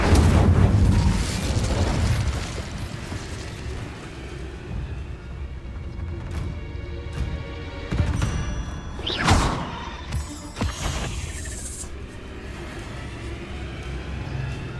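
Spells cast in the game Hogwarts Legacy, including the Incendio fire spell, give loud booming bursts and whooshes over a constant rumbling din, with sharp blasts around the middle of the stretch.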